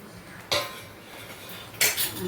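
Fried chicken being stirred in a metal pan for butter chicken, two sharp scraping clatters of a utensil against the pan about a second apart, loud and close over a quiet background.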